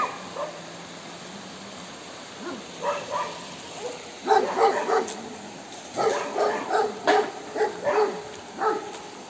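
Several dogs bark and yip at a trout farm, scattered barks at first, then a denser run of overlapping barks from mid-distance over faint outdoor background.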